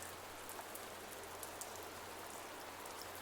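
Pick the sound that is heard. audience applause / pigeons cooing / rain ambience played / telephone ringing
rain ambience played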